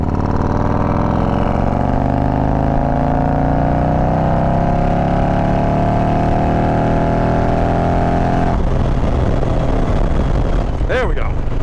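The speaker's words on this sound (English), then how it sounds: "we're gonna do a 4th gear pull right here" A cammed Harley-Davidson Road Glide motorcycle makes a fourth-gear acceleration pull. The engine drone is loud and close and rises steadily in pitch, then drops off sharply near the end as the throttle closes.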